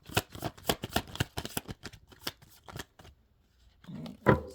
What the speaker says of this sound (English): let's try to do a better job shuffling.